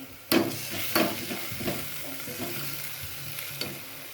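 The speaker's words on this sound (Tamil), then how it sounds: "நல்லா வதக்கிடலாம்." Chili powder being sautéed into curry in a pan, with a few sharp stirring scrapes and a soft steady sizzle underneath, close and fairly quiet, no talking.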